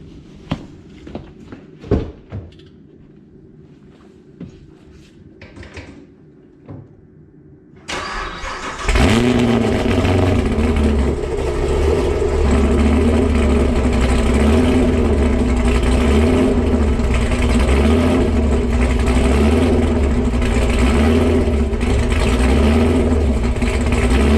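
A Chevrolet Camaro with an LS engine cranks after a quiet stretch of scattered clicks and shuffling, catches with a sudden surge, and settles into a loud, steady cold idle that runs unbroken to the end.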